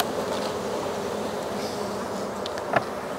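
Honey bees buzz around an open beehive during a frame inspection, making a steady, close drone that runs the whole time, with a brief louder bump near the end.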